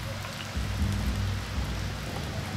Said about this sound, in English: This rain sucks.